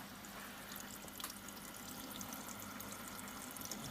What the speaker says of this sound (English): Oh, it's filling up at the back somewhere.